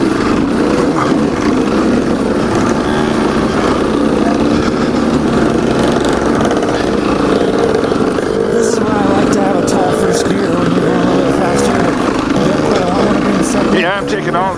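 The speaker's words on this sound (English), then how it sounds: "this seems like my bike's running really well" A trail motorbike engine runs steadily in gear on mountain canyon trails, a loud continuous drone throughout with wind noise and a voice talking over it.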